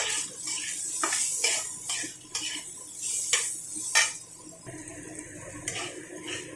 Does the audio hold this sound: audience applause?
no